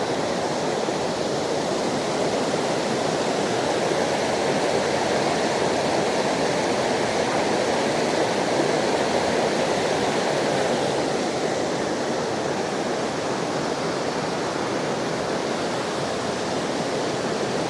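Steavenson Falls near Melbourne, Australia roars in a steady, loud, unbroken rush of falling water that holds evenly from start to finish, with no voices.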